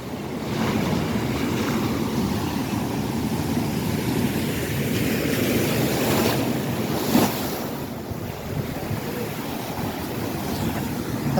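Ocean waves wash onto a beach in a steady, broad roar, with wind buffeting the microphone and a few brief louder swells and gusts partway through.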